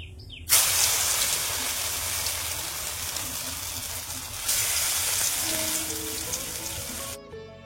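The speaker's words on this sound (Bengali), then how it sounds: "এক এক করে বড়াগুলো ভাজতে শুরু করলাম।" Soybean and egg fritters fry in hot oil, giving a continuous close sizzling hiss that starts abruptly, swells once partway through and cuts off near the end, with no talking.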